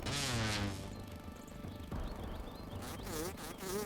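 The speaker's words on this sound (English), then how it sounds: "That sounds like 2 mosquitoes to fight." Giant mosquitoes in the video game Grounded 2 drone with a loud, wavering insect buzz, close and continuous, swelling and dipping as they circle.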